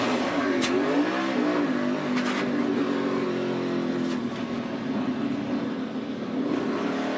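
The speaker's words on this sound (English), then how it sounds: "Never quit driving that race car" A race car engine at the 2014 Sprint Unlimited at Daytona revs loud and close, its pitch climbing and falling over a sustained drone, with other engines and brief tire or wind noise around it.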